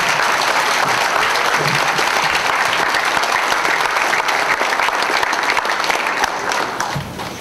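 Sustained audience applause for children performers at an evening event, a dense, steady clapping from a large crowd that carries loudly throughout and eases off slightly at the end.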